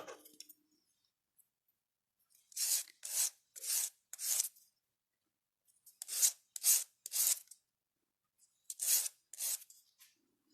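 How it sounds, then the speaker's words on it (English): Small punched metal charm discs for a bracelet are briefly hand-sanded, heard as three quiet clusters of short rasping strokes, three or four strokes each, separated by silence, with no talk. "And I'll just sand these briefly."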